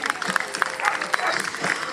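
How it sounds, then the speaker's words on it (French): Audience clapping breaks out at a regional dog show on Réunion island as a dog is congratulated in the ring, a dense, steady patter of hands with crowd noise that fills the whole span. "Vous pouvez aussi l'applaudir."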